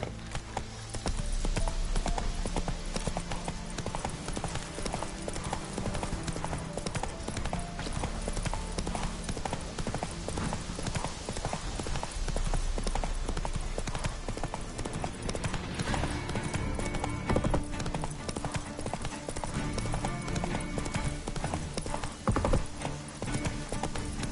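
The horse Roach trots steadily in a video game, hooves clip-clopping in a continuous rhythm close by, with an occasional whinny over a dense game soundscape.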